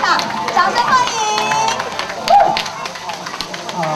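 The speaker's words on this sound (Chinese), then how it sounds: "让我们掌声欢迎我们今天张国宇主任，张主任来到我们的活动现场，掌声欢迎" Crowd applause at a Dragon Boat Festival event at Shoushan Zoo welcomes a director, a busy patter of many hands mixed with murmuring voices and a person speaking over it.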